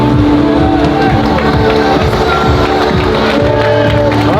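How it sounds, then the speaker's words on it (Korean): A crowd at a Black Combat 13 MMA fight event cheers and applauds loudly and without pause, with a voice or music ringing over the roar. "최선을 다해 싸워준 화이트베어 선수께 큰 박수 부탁드리겠습니다."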